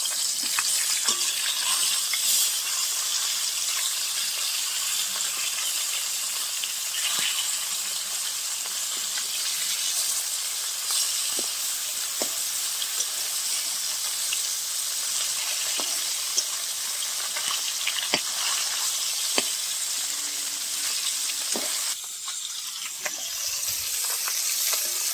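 Steady, loud hiss of fish frying in hot oil runs throughout, with scattered pops and crackles and a brief clatter near the end.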